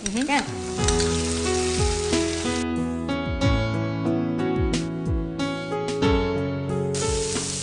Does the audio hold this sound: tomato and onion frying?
yes